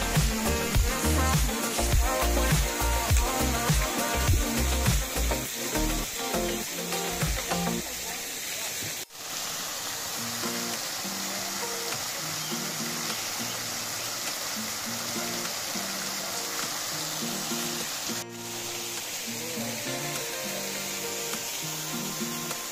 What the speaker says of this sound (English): So you're about to see this waterfall.